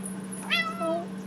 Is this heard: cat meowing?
yes